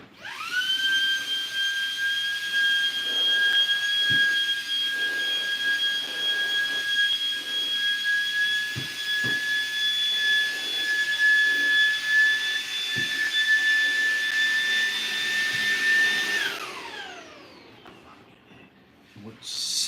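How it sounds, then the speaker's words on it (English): A tiny handheld vacuum sucks up baking soda with a high, steady electric whine and airy hiss, a few faint knocks underneath, then spins down near the end. "What sucks about this tiny vacuum is that you have to like clean it out every 13 seconds."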